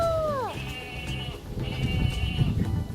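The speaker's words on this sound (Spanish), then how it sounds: "Hay ovejas también." A toy farm sheep gives a sequence of electronic bleats, a wavering tone heard twice over about three seconds with a child's play rustle and low background noise beneath.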